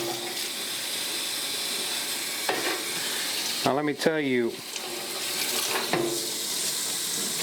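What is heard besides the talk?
rinsing Claw-In-One parts with tap water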